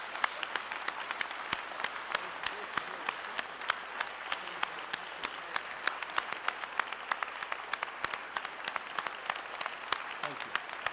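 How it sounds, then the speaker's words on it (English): An audience applauds a Catholic archbishop at a talk, sustained crowd clapping heard from a distance with sharp individual claps scattered through, and faint talk underneath. "I think the Archbishop deserves a fabulous round of applause."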